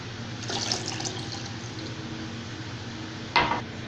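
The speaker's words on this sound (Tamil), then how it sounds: "இப்போ வந்து ரசத்துக்கு தேவையான அளவு தண்ணி சேர்த்துக்கிறேன்" A steady wash of water poured into a jeera pepper rasam mixture runs throughout, close and even, with a brief louder splash near the end.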